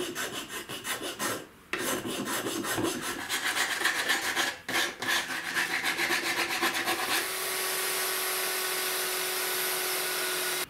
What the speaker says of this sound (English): now I'm going to do a little bit more sanding to make it look better